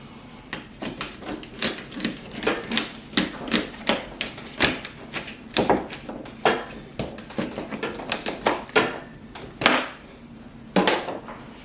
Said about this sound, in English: I'm going to cut off the stems